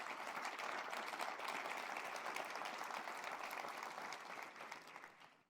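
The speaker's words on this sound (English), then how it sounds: "How about a round of applause for those three?" Audience applause fills a university State of the University address hall, a dense steady wash of clapping from a large crowd that tapers off at the end.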